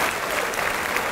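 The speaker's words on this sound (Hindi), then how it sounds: "तो एक बार खुल के तालियाँ बजाइए।" Audience applause at a mushaira poetry recital in Lucknow, a dense, loud wash of many hands clapping together with no break.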